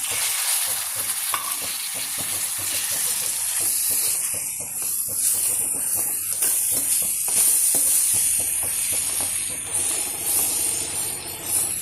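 Chopped pineapple dropped into hot oil with chili and spice powders, a loud continuous sizzle and hiss with scraping stir strokes throughout.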